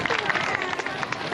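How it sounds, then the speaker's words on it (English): Applause from an audience at an event, a brief patter of clapping mixed with crowd murmur and a speaking voice. "Would you give them a round of applause so they come and go on?"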